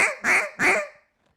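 Two drawn-out, nasal duck quacks from a call imitating lazy loafing ducks, close and loud, with a slow relaxed rhythm, then silence.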